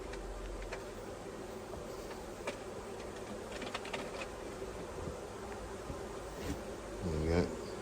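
Bees hum softly around an open Flow hive during a hive inspection, a faint steady drone with occasional louder buzzes as individual bees pass close, and a brief rustle near the end.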